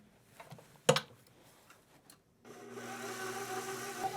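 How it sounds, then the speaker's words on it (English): A stand mixer fitted with the paddle attachment starts up midway and churns sausage meat with a steady, moderately loud motor hum. Scattered ticks and a sharp knock come before it. "onto the stand mixer with the paddle attachment. And we'll just mix this up until the meat starts to come together"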